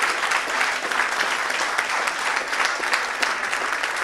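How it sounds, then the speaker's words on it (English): Warm, sustained clapping from an audience at a live show fills about four seconds, close and even in level, with no speech on top. "Give the applause to him."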